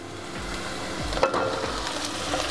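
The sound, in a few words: pumpkin pieces added to fried onions in pan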